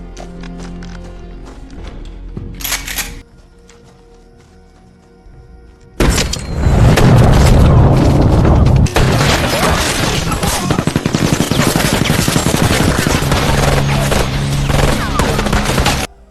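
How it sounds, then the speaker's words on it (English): A movie gunfight, Homefront (2013): a quieter, mechanical stretch gives way to a sudden loud, dense barrage of gunfire and blasts that stays sustained and close for the remaining ten seconds. "a fierce gunfight ensues"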